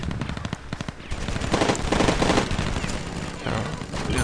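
Rapid automatic gunfire from the mobile shooter game Rivals at War Firefight, dense bursts of shots with a steady battle din carrying through the whole stretch.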